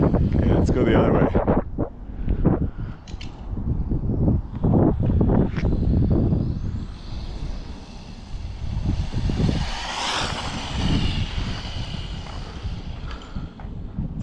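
A radio-controlled TMNT Party Wagon on a custom TT-02 chassis, with no wheel bearings fitted, runs at full throttle outdoors, its electric whine rising and falling under heavy wind noise while a voice talks over it.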